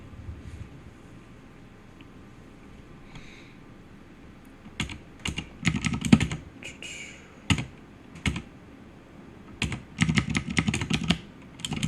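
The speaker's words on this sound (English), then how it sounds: "it's a mechanical keyboard with the loudest switches in the world" Loud clacky mechanical keyboard typing close to the microphone, coming in rapid bursts separated by brief pauses.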